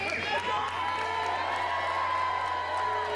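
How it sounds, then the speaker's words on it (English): Arena crowd at a fight night cheering and applauding after a hard-fought bout, a steady roar of voices and claps with scattered whoops, loud and continuous throughout. "And this crowd responding very favorably."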